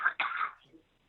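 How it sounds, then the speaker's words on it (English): A person gives a short throat-clearing cough, then a couple of quieter choking rasps trail off into silence. "Are you coughing, choking? Yeah. I am coughing."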